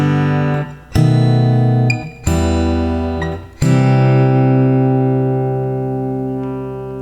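An acoustic guitar is fingerpicked through a sequence of chord shapes. Each new chord rings out bright and sustained, changing about every second and a half, and the final chord fades slowly, clear and close with no talking.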